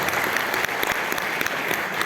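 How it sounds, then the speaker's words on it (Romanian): Sustained applause from a concert audience for the Cimbrișor folk music orchestra at a traditional music showcase, dense and steady clapping filling the whole stretch with no talk. "Aplauze pentru Orchestra de Muzică Populară Cimbrișor"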